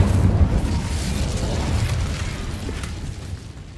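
An Incendio fire spell blasts in Hogwarts Legacy, a loud, deep rumbling boom that swells at once and then slowly fades over a few seconds with a roaring, crackling tail.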